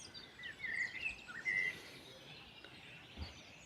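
Birds chirp and trill in bursts of high, bright calls, fairly close, with quieter song and insect-like buzzing continuing in the background.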